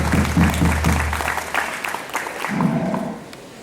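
Audience applause for a volleyball coach at a club's 15th anniversary celebration, a broad wash of clapping mixed with background voices and a low hum.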